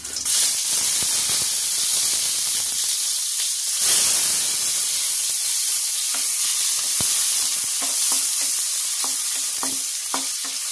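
Garlic and onions hit hot cooking oil in a pan, giving a loud, continuous hissing sizzle with crackles and occasional scraping stirs close by.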